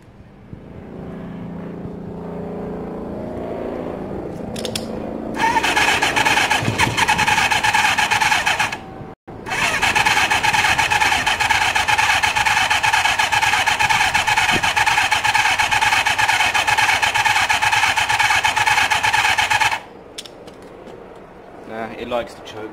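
Fired up without the choke, a small engine catches with a loud, steady buzzing roar after a few attempts. It cuts out briefly, then restarts and idles evenly for about ten seconds before stopping. Someone talks at the start.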